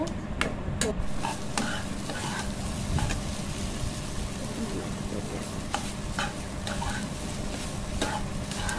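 Fish roe fries in oil in a pan while being stirred, giving a steady crackling sizzle broken by repeated sharp scrapes and taps of the spatula, close and clear.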